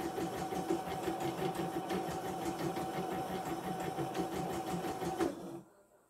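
A portable YOKO embroidery machine motor runs with a fast, steady mechanical chatter and needle rhythm, close and continuous, then abruptly stops near the end.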